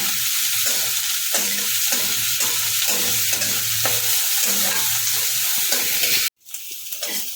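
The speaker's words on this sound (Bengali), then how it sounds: "পেঁয়াজ কুচি আর কাঁচা লঙ্কা কুচি একসাথে দিয়ে দেবো পেঁয়াজটা একটুখানি ব্রাউন করে ভেজে নেব" Chopped onion and green chili sizzle and crackle steadily in a hot pan while a utensil scrapes and stirs in an irregular rhythm, then the sound cuts off abruptly.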